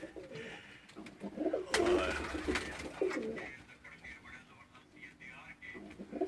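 Teddy breed pigeons at a keeper's loft give soft cooing calls close by while someone talks over them.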